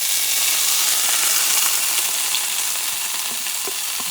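Potatoes for a wild boar and pork hash frying in a pan, a loud, dense, continuous sizzle heard close up with no voices.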